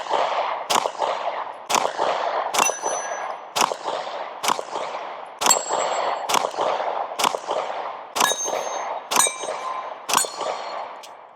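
Pistol gunfire from a Glock clone striking steel targets at a range, about a dozen loud sharp shots with ringing metallic clangs and decaying echoes, spaced roughly a second apart with brief pauses, no talking.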